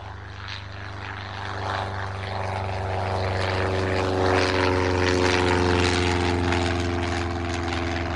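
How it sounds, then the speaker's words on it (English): A propeller plane flies overhead with a loud, continuous droning buzz that grows slightly stronger as it passes, and nothing else is heard over it. "It's a plane."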